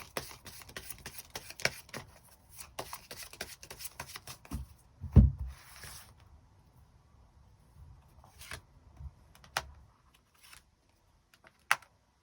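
Tarot cards shuffled and drawn by hand: a run of quick crisp riffles and taps, one heavier thump partway through, then sparse soft card flicks and slides, faint and close.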